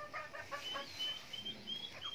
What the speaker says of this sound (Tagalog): So yan may sumasampol na kaagad na manok.